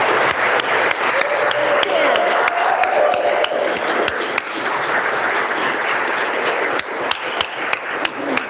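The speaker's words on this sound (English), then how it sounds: "let's give them another round of applause" A steady round of applause from members in a state House chamber, with sharp individual claps heard throughout and some voices underneath.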